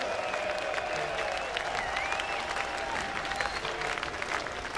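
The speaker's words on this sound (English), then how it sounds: "Give yourselves a cheer." A large crowd at a concert at Wacken Open Air 2006 applauds and cheers continuously, with whistles and shouts over dense, distant clapping.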